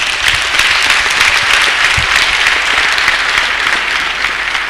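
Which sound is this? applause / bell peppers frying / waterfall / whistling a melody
applause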